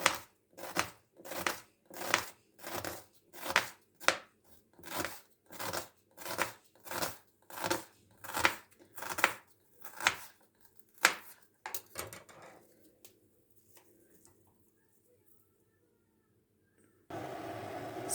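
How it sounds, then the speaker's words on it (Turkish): A knife chops onions steadily on a board, about twenty quick regular strokes, then tapers into a few scattered cuts and quiet before a brief hiss of noise. "diğer soğanlarımı da yine aynı şekilde doğruyorum"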